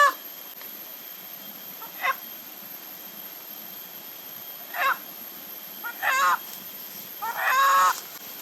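A few short chicken calls sound at a distance, scattered and faint at first, then louder and more clustered, over a steady background hiss.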